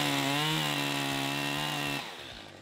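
A chainsaw cuts rounds from logs during trail building, its engine holding a steady, loud, high whine that drops off and fades after about two seconds.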